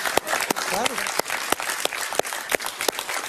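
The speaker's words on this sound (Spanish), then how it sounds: "Un aplauso para ese niño." Studio audience applause for a boy on a Venezuelan talk show, a brief burst of crisp, spaced clapping with a voice speaking over it.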